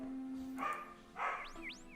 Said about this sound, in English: Apologize for my dog. She's a barky dog.